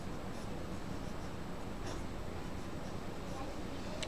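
Pen scratching steadily on paper during a math lesson, a faint continuous writing scrape with a few short strokes, close and quiet.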